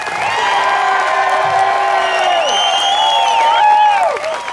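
A large rally crowd cheers and applauds loudly and continuously, with whoops and shouted voices layered into a dense, sustained roar.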